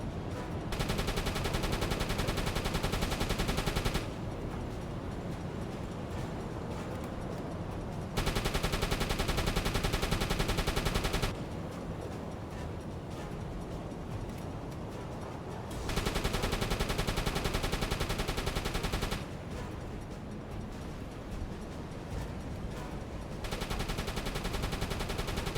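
Sustained gunfire in the submarine game UBoat, steady dense bursts alternating in loud and slightly softer stretches, continuous and close with no talk.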